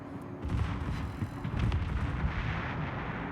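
Rapid secondary gun batteries of a battleship firing in World of Warships, a dense rolling barrage of overlapping booms that stays loud and continuous throughout.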